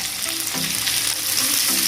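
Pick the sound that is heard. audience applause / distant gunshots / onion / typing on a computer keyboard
onion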